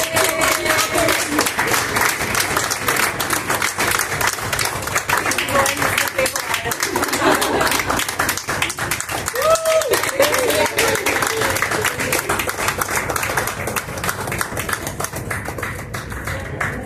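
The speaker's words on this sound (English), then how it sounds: "Yes, applause." Audience applause at a writers' gathering, steady dense clapping from a crowd that runs throughout, fairly loud and close, with scattered voices mixed in.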